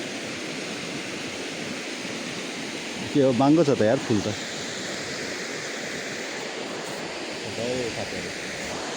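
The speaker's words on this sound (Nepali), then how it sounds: "यहाँ चाहिँ खोला यहाँ चाहिँ जहाँ गर्मीमा चाहिँ पौडी खेल्ने ठाउँ" A steady broadband rush of a river flowing beside a Nepali village at a summer swimming spot, continuous and moderately loud, with a voice speaking briefly over it.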